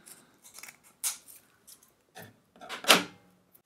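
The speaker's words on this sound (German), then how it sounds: "könnt ihr das mit einer ganz normalen Schere schneiden" Ordinary scissors cut through a thin metal shim sheet in a run of crisp snips: light, irregular cuts at first, then a sharper, louder snap near the end, all close-up and without talk.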